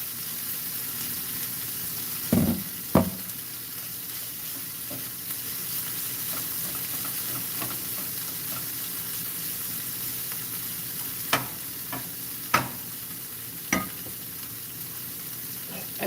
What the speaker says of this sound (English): I'm just taking the spatula and breaking it up a little bit more